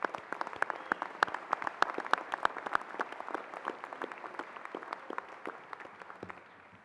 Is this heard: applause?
yes